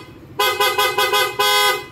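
Loud car horn blasts nearby in quick pulses, four short honks in a stuttering rhythm followed by a longer sustained toot, bright and brassy against quiet background.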